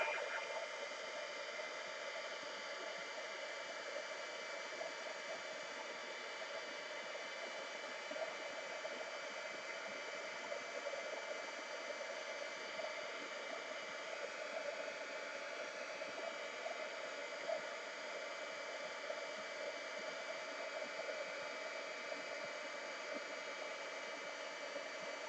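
A heat tool melting embossing powder blows with a continuous, even hiss and whirr of hot air that holds steady throughout, close and moderately loud.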